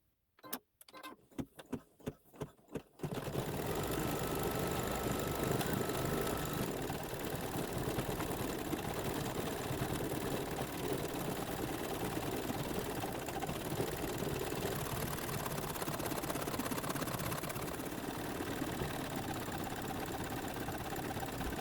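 An embroidery machine stitching the edge of a quilt feather on a SweetPea block, starting with a few sharp separate clicks before settling into a steady, continuous motorized whir that runs on evenly at moderate loudness.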